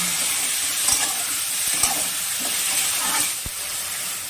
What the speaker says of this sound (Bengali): আলু কুচিটা দিয়ে আলু কুচিটা একটু ভালো করে নাড়াচাড়া করে নিব।